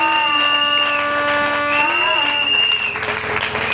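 A church congregation claps in steady applause, continuous and fairly loud, with sustained musical tones from instruments ringing underneath.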